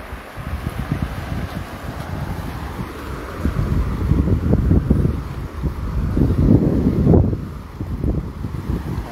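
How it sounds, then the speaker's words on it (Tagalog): Strong night wind beside fishermen buffets the microphone in a continuous low roar, surging louder in gusts, with no one speaking. "at medyo malakas pa yung hangin dito"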